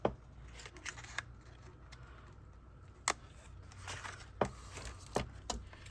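Scissors snip off excess red line tape on a handmade birthday card, several sharp close cuts spaced irregularly over soft rustling of paper, with no talk.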